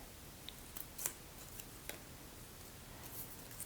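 Scissors trim a scrapbooking paper border with a few faint, crisp snips, close and quiet against a light background hiss.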